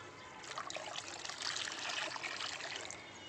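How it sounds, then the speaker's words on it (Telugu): OWDC liquid fertilizer pours into a one-litre can as a steady, soft trickling splash that runs for a few seconds at close range without any talk. "లీటర్ డబ్బాకి పోస్తున్నాను చూడండి."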